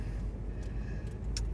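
Ford F-250 pickup truck driving through Seattle city streets, with a steady, close low engine and road rumble throughout and a few faint higher hisses.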